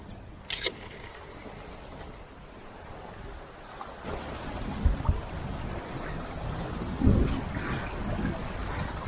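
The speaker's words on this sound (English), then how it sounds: "it's very lumpy and confused seas" A sailboat runs in wind through lumpy, confused seas near San Juan and Lopez Islands. Steady wind rush and water wash continue throughout, with a few heavier thumps of hull against chop.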